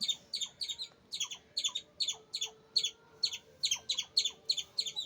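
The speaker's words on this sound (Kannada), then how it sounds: "ಹಕ್ಕಿ ಕೂಗ್ತಾ ಇದೆ" A sparrow chick chirps in a quick, steady series of high tweets, fairly faint, with no voices.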